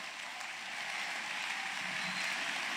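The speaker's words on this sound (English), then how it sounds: "Why don't you clap your hands for the Lord?" Church congregation at a Bible seminar clapping their hands in praise, a steady, dense wash of applause with no voices, holding even throughout.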